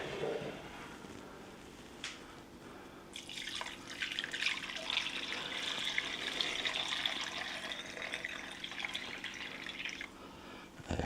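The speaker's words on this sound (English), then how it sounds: "let's take that marinade and pour it right down in here" Steak marinade being poured into a pan, a steady liquid splashing and trickling stream that swells after a few seconds and runs continuously, close and fairly loud, with no talking.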